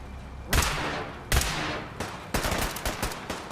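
Gunfire in a fight in Fallout 4's Far Harbor expansion: heavy booming shots, two single blasts then a rapid volley of repeated rounds, loud and close with no voices.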